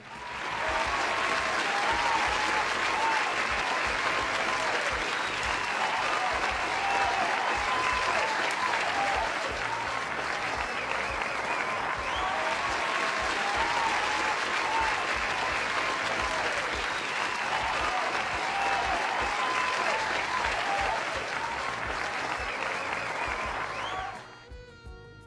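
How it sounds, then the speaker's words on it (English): Sustained, dense applause from an audience fills about twenty-four seconds at a steady, loud level before cutting off abruptly. "Can we clap it up for the second team defense?"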